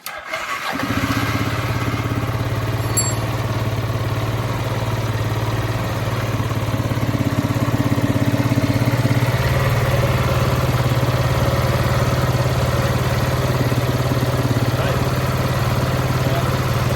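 The Piaggio engine of a 2004 Boom Trike Fun 500 with a faulty reverse gearbox runs steadily at high revs, a constant loud droning hum with no breaks, close by.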